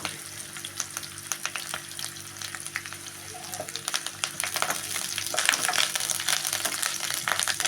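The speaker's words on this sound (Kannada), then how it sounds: "ಪುರಿ ಕಮ್ಮಿ ಇಟ್ಟು ಬೇಳೆ ಹಾಕಿ ಹಾಗೆ ಕರಿಬೇವು ಸೊಪ್ಪು" Lentils and curry leaves fry in oil for cabbage palya with a constant crackling sizzle, dotted with sharp pops and stirring scrapes that grow a little louder near the end, with no talking.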